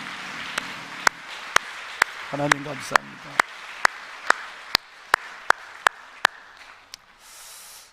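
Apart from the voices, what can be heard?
congregation applauding in church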